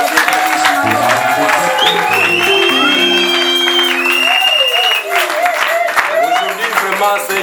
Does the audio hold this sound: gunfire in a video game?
no